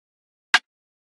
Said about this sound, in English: which is this BWB snare.